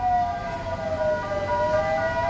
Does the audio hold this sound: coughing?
no